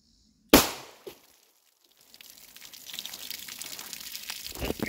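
A single sharp 9mm Norma MHP shot from a Palmetto State Armory Dagger pistol cracks out close and loud into water jugs, followed by a brief smaller impact, then splashing and trickling water.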